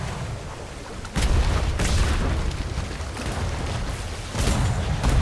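Ship cannons in a naval roleplay video game fire a port-side broadside: a run of loud, heavy booms that come in irregular bursts over a continuous low rumble, with no voices.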